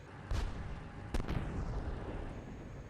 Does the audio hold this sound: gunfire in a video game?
yes